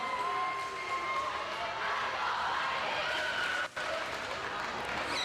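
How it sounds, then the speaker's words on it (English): Crowd noise from spectators at a girls varsity volleyball match between Palatine and Fremd, a steady broad roar of voices filling the gym with a brief dropout near the end. "The Fremd crowd getting into it now."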